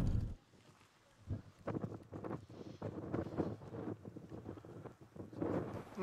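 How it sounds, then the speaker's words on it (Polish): Strong wind blows along the Nile in sandy weather, gusting in uneven bursts that rumble against the microphone, fairly close and rough with no voices. "Trafiła się wietrzna, piaskowa pogoda."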